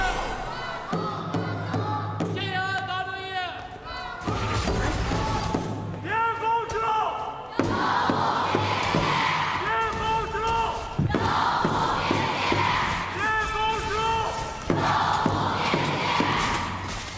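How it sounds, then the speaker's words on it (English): Esports fans roar and cheer in the arena at the Honor of Kings Challenger Cup knockout stage, loud surging crowd noise with shouts rising in waves while a caster talks over it. "let's hear the fans cheer right here,"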